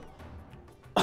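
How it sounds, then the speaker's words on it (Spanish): A single short, sharp cough bursts out close to the microphone at the very end, after a near-silent pause. "Me ha dado la tos."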